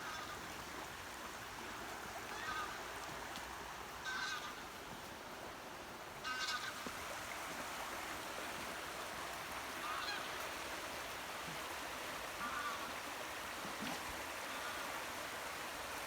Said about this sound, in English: There's a bird making an awful lot of noise